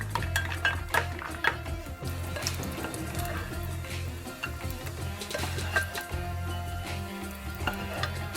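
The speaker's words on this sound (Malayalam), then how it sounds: "നമുക്ക് കുറച്ച് കാഷ്യൂ വറുത്തിട്ട് എടുക്കാം" Cashews roasting in ghee in a pan for curd semiya, stirred with a spoon: a soft continuous sizzle under repeated scraping and light metallic clinks, close and moderately quiet, with no voices.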